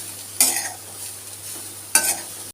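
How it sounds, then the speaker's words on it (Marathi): Chopped carrots sautéing in ghee with spices in a pan, with two brief stirring scrapes over a steady low sizzle, fairly close and moderately loud. "गाजर आपल्याला परतून घ्यायचा आहे तुपामध्ये आणि ह्या मसाल्यांमध्ये"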